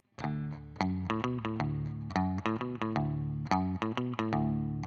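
An acoustic-style rockabilly guitar part, played slightly palm-muted, gives clipped, punchy strummed chords in a bouncing shuffle rhythm, close and alone, with no voice.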